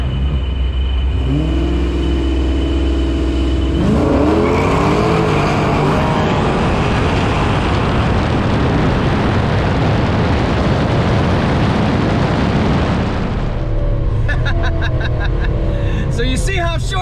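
A ProCharged 5.7 Hemi R/T car in a legal street race, its loud engine rumble roaring as it accelerates hard and then fading away, with people talking over the noise.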